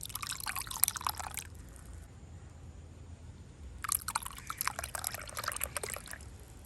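Chilled tender coconut payasa with almonds, walnuts and pumpkin seeds poured out for serving, two close bursts of liquid splashing and trickling separated by a quiet gap.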